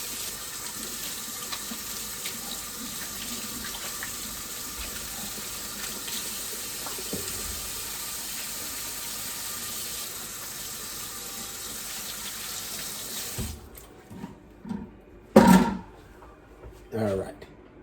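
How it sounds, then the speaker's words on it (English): Tap water runs steadily into a kitchen sink as hands are washed, a continuous close gush lasting most of the time before it shuts off, followed by a few scattered clanks and handling knocks. "let me just wash my hands here"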